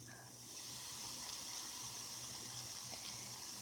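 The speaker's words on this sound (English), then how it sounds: "Add some water." Water from a measuring spoon is added to a bath bomb mixture, giving a steady fizzing, gushing hiss that holds close and even throughout.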